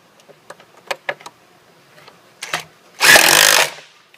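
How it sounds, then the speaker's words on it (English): A power driver spins screws into pocket holes to join two tiers of a lighting display, one loud burst of about half a second after scattered clicks and handling knocks. "fasten a screw in each of these holes, securing tier 3 to tier 2."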